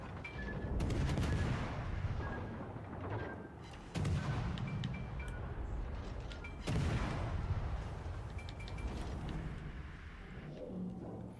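Heavy warship guns in World of Warships: Legends boom in a few loud salvos, each followed by rumbling echo and mechanical creaks, with no talking.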